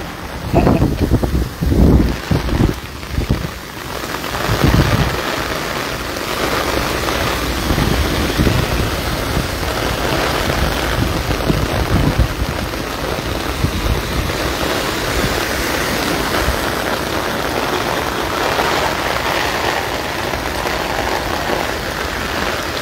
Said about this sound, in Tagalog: medyo malakas pa rin yung ulan